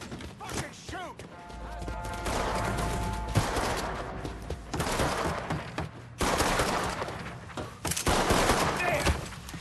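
Gunfire in the video game Mafia III, a dense run of repeated shots and rapid bursts crackling through the whole stretch, loud and close, with short gaps between volleys.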